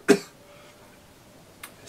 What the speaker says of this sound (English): excuse me, I hate coughing